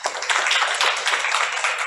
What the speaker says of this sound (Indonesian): Kita beri aplaus ya.